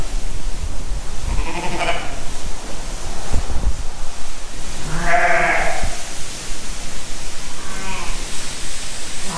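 Cheviot and cross ewes bleating inside a shed, two or three loud nearby bleats spaced over several seconds above a steady rushing background noise.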